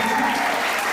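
A seminar audience claps for a newcomer in a church gathering hall, a dense, steady round of applause from a crowd, loud and close throughout a brief burst.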